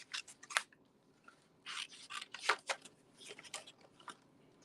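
Scissors fussy-cut traced cardstock in quick bursts of crisp snips, several clustered strokes with brief pauses between, close and fairly quiet.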